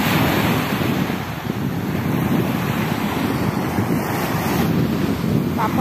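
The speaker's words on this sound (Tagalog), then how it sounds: "Ang ganda dito sa gilid ng dagat." Sea waves wash steadily onto a beach shore, a loud continuous roar of surf mixed with gusting wind buffeting the microphone, with no talking.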